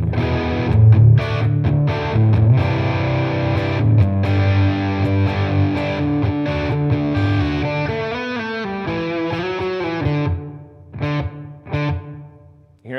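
An electric guitar runs through a Fender Mustang GT 100 amplifier studio preset with reverb, playing a loud distorted riff of sustained chords and single notes that rings out into pauses near the end.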